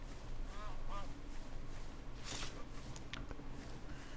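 Geese in a modded Minecraft world near a birch taiga biome give a few short nasal honks in the first second, over steady rain-like ambient noise with faint background sounds.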